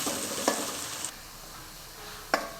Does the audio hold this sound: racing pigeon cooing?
no